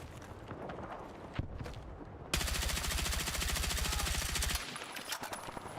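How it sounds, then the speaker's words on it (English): Gunshots in the video game Wardogs: a few scattered single shots, then a sustained rapid automatic burst lasting about two seconds, followed by quieter scattered pops, close and loud with no talk. "Two headshots and a few body shots, and still alive."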